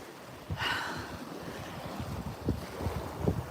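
Wind buffets the microphone while water laps and splashes nearby in a few soft surges, with a gusty rush sweeping through early on and no speech.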